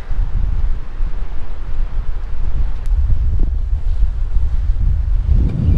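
Loud, constant wind buffets the microphone while fishing in Clearwater, Florida, with a heavy low rumble and roar throughout, no voices audible.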